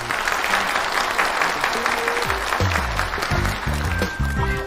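Applause from an audience at a staged NE phone launch event, a steady dense wash of clapping throughout, with faint musical tones underneath.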